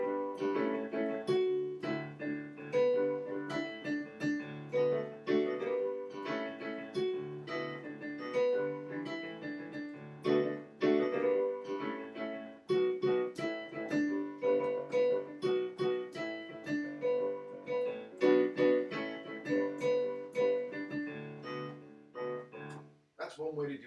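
Piano playing a melody line, single notes and light chords picked out at a moderate pace, fairly quiet and close, continuing steadily before fading out near the end.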